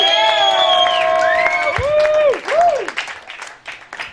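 An audience at a heavy metal television anniversary party and awards show breaks into applause, with bright whistles and whoops rising over the clapping before it thins into scattered claps.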